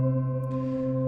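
UVI Meteor's 'Quiet Place', a soft cinematic drone tone: a steady layered hum with an airy whoosh that swells in partway through the brief second.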